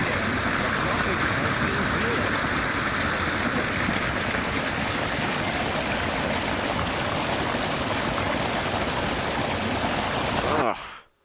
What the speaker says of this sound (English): Again with the obscenely loud waterfall.